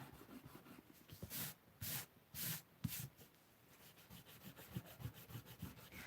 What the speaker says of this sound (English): Just going to go over all these lines and rub them out.